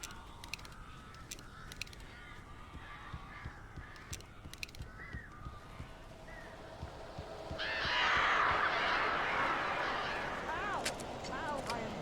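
Crows caw repeatedly in the video game Alan Wake, harsh calls scattered across the clip and partly under other game sounds, with a noisy swell building toward the end.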